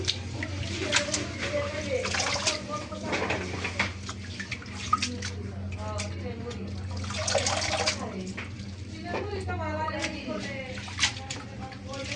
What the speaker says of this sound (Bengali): তো এই যে বাঁধাকপিটা আমি এখন ধুয়ে নেব পানিতে।